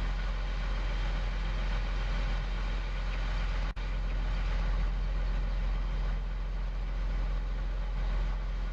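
A tractor engine idling in Farming Simulator 17, a steady, loud, low drone that continues unchanged throughout, with one brief click partway through.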